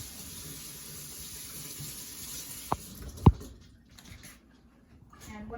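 Hands washed under a kitchen tap, a faint steady stream of running water with a couple of sharp clunks before the flow stops.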